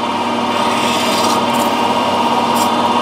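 Metal lathe taking a fine cut across round bar at 1000 RPM while making BSP plugs: a steady, loud, close whine and hum of machine and cutting, unbroken for the whole stretch.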